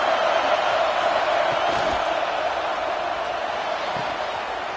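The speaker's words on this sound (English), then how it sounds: "Listen to this crowd just shaking the girders of this place" Dense, roaring football stadium crowd cheering loudly to back the home defense, a steady wall of noise with occasional whoops.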